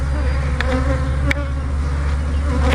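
Honeybees swarm around beehives, their dense, loud, continuous buzzing close by, with a couple of sharp clicks breaking through the steady drone.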